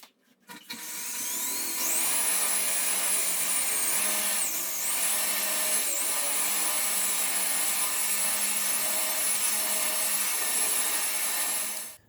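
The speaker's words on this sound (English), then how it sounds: "the next step is to use a cutting compound and buff out the dull sanded clear coat" Car polisher with a wool buffing pad and cutting compound working over freshly wet-sanded clear coat on new paint, a steady whining motor hum that spins up and holds with slight pitch wavers, moderately loud and alone.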